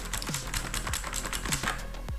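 Keys clatter on a mechanical computer keyboard, either an HP GK320 or a Cosmic Byte Pandora, in a quick, fairly even run of sharp, close clicks with no talk.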